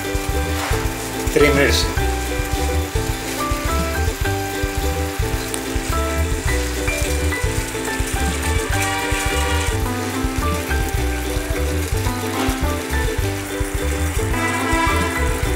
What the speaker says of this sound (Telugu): దాంట్లో వాటర్లో వేసుకొని మరగబెట్టుకోవాలి